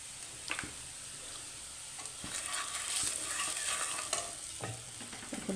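Chili powder, salt and turmeric being sautéed in a pan, a low continuous sizzle with intermittent scraping stirs and light taps, no voices.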